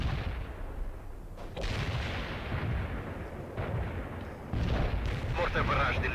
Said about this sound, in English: Mortar barrage delivered.